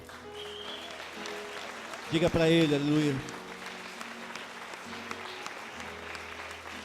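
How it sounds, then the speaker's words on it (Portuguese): A church congregation at an evening worship service applauds continuously, with a steady wash of clapping under a pastor's amplified voice and a brief loud sung phrase. "Aplauda Jesus nessa noite, irmão."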